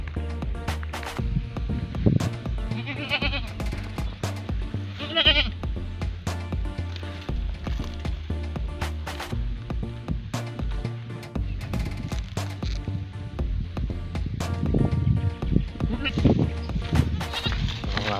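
Goats on a farm bleat repeatedly over a steady background hum and rustling, with several distinct calls rising at intervals, some close and some farther off.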